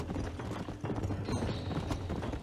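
Horse hooves clip-clop in steady rhythm through the Western open-world video game Red Dead Redemption, close and continuous over a busy game soundscape with occasional mechanical clatter.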